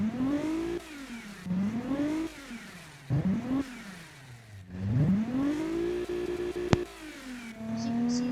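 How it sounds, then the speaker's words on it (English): A car engine revs repeatedly in rising and falling sweeps, each pull climbing then dropping back, fairly close with short pauses between bursts and a sharp click near the end. "the car sounded pretty good when I tested it, and you're just about to hear it real soon"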